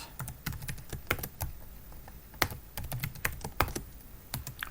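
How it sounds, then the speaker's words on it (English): Quick, uneven keystrokes clatter on a computer keyboard as a command is typed into a Linux or Mac terminal, close and fairly quiet, with no voices. "So I will type this command."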